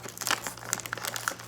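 A plastic packet of salted seeds being torn open and crinkled close up, quick irregular crackles and rustles, fairly quiet and with no talking.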